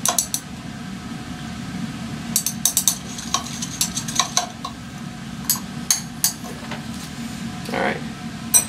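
A caffeine-from-tea solution is stirred in a lab, with repeated light clinks of a stirring rod against glassware, close up and irregular over a low steady background.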